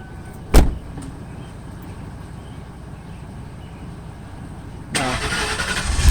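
A Lincoln Mark VIII's engine cranks after a door thud and catches near the end, roaring up loudly and close; no talk runs over it.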